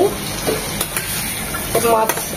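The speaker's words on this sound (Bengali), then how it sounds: "আমটা একটু কষিয়ে নেব, একদম গালিয়ে নেব না" Thin-sliced mango sautéed in oily, cooked-down spice paste for a small tengra fish sour curry gives a loud, close, steady sizzle, broken by brief scraping stirs.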